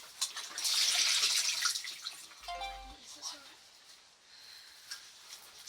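Running water splashing while a face is rinsed with a flannel, a brief loud gush followed by softer trickling and dripping, fairly close and faint overall.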